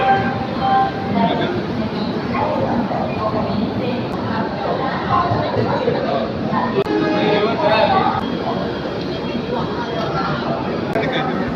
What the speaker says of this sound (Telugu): ఇప్పుడే ట్రైన్ అయితే వచ్చింది.